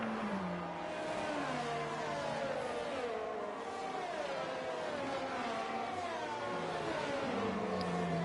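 An Aston Martin race car in a racing video game at the Canadian Grand Prix, its engine whining and shifting pitch as it brakes and accelerates through a hairpin, with other cars droning steadily beneath it.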